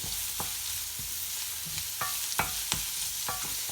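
Onions fry for a dried shrimp masala, with a constant close hiss of sizzling oil broken by sharp spatula scrapes and taps against the pan at irregular intervals.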